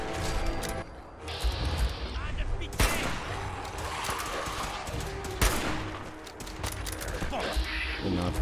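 Rapid bursts of gunfire in the video game Fallout 4, loud sharp shots with sudden impact spikes over continuous game noise, with a voice talking at times.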